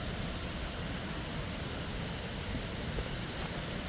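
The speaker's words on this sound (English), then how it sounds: "you can hear the waterfall in the background" A faint, steady rush of falling water at Burney Falls hisses continuously in the background, even and unbroken, with no other sounds standing out.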